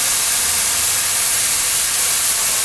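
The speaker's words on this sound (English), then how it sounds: "we're using our steam cleaner to remove the paint from the brick" A steam cleaner spraying 260-degree water onto brick to strip paint, a loud, steady, broadband hiss that stays constant without pauses and with no voices.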